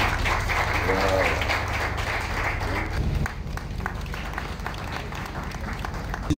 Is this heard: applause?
yes